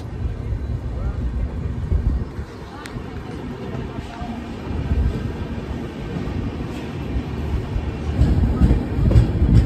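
The Dakshin SF Express rolls through Sevagram Junction with a deep continuous rumble from inside the train and faint clattering of wheels on the rails, which grows louder toward the end.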